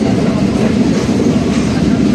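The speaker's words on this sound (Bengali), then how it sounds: "খুব কাঁপাকাঁপি করতেছে ট্রেন" Inside a seating-class coach of the Dhalarchar intercity express, a loud, steady rumble and rattle of the shaking carriage runs continuously, dense and low, with no break.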